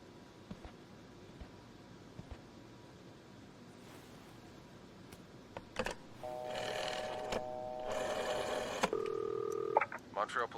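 Phone keypad tones beeping in short steady bursts as a number is dialled to reach the police, rising out of a quiet room hiss, with faint movement noises around it.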